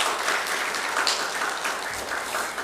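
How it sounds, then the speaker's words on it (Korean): A congregation at a Sunday morning service at Gungpyeong Methodist Church applauds an elder after his three-week fast, with steady, full applause from many hands continuing throughout. "여러분들 장로님에서 박수로 격려하시기 바랍니다"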